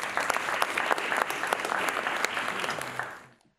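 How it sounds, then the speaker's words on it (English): A short burst of audience applause at a bioscience panel session welcomes the facilitator, dense and steady clapping for about three seconds before fading quickly to silence. "A round of applause for him, please."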